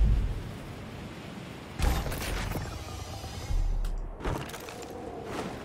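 A 3D printer in Far Cry 5's Lost on Mars starts up as a sequence of mechanical whirs, creaks and clunks, with two louder motorised surges and a sharp closing clank, alone without talk.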